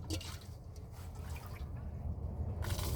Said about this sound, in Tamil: இது அதில் ஊற்றாமல் இதை வெளியே ஊற்றிக்கணும்.